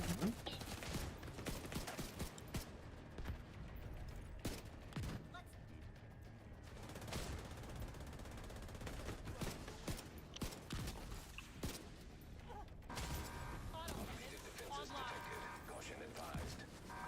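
Gunfire in the video game The Division 2, bursts of shots and impacts scattered through a dense, busy mix of battle noise, with a voice talking over the action.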